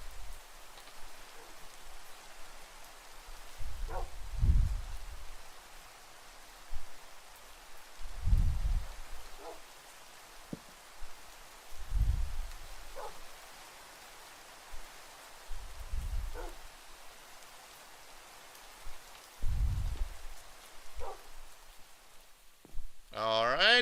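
Steady rain falls in the game Minecraft, a soft continuous hiss, while someone talks over it in short bursts.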